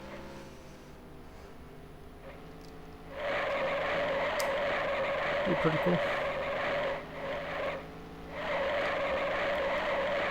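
Race car tires squeal in the NASCAR Racing 1996 video game at North Wilkesboro, sustained synthetic screeches in two long bursts over engine drone, with someone talking briefly.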